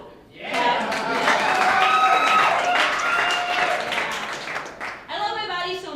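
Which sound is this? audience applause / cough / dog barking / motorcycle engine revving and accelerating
audience applause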